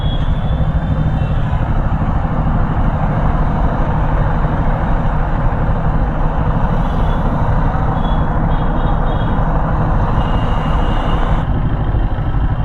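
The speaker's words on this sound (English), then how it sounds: "Traffic." Road traffic with passing trucks makes a steady, loud, dense roar of engines and tyres, with no pauses and no voices.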